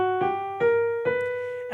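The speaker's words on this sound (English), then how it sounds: "So I can play that scale again, and this time raise the 7th scale degree half a step." Notes of a harmonic minor scale with its raised seventh degree, played on a sustaining instrument: four clear tones in quick succession, each with a soft attack, close and alone.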